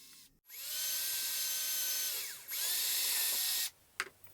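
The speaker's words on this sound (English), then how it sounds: "I then drill a hole for the bolt which will form the joint in both pieces." A power drill whirs loudly in two long bursts with a short dip between, boring into wood, then stops with a faint clunk.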